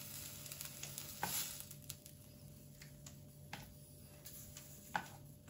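Lamb pot ingredients and flour cook in a pan: a faint, steady sizzle with scattered light ticks and scrapes from stirring, and no voices.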